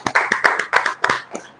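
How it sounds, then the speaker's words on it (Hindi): A church congregation claps together in a live Sunday service in India, a quick run of loud, close, rhythmic claps with a few scattered hands that fade out at the end. "एक दूसरे के लिए ताली बजाएं,"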